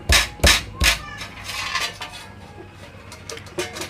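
Peeled garlic cloves being pounded in a kitchen, with three heavy, sharp thuds first and then lighter, irregular knocks and clinks that fade into softer taps.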